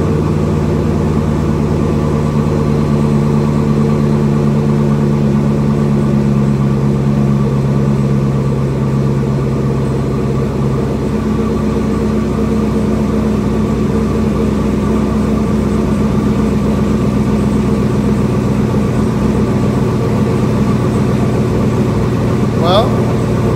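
A car engine running a home-written tune holds a steady, loud idle, a continuous droning hum with a constant pitch and no breaks.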